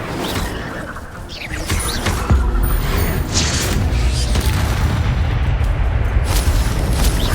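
In Hogwarts Legacy, Incendio and Expelliarmus spells are cast in combat: loud, dense rumbling bursts and whooshing blasts come one after another without a break, heard close and on their own.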